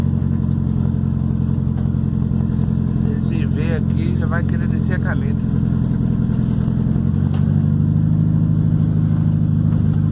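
A black VW Passat with a 4-into-1 exhaust idles loudly and revs with a deep, steady rumble throughout, its pitch shifting near the end, while someone talks over it.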